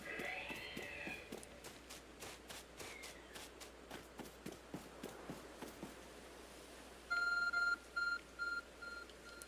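A phone in Pokemon Legends: Arceus gives short repeated electronic beeps in a pulsing pattern near the end, after a run of steady game footsteps.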